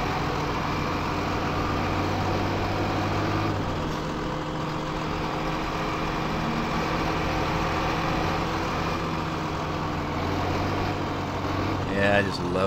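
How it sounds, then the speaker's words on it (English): A truck engine in Farming Simulator 2015 drones steadily with a low, even hum for the whole stretch, with a brief change near the end. "I just love the sound of this truck"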